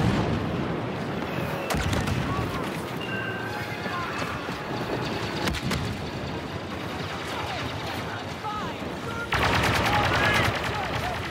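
Cover fire in a Star Wars Battlefront 2 firefight: steady blaster and machine-gun fire with sharp individual cracks over a dense battle din, growing louder toward the end, with voices partly mixed in.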